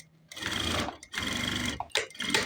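A sewing machine stitches a hat seam in short bursts, running hard for about a second, stopping briefly, then starting again, close and clear with no voices.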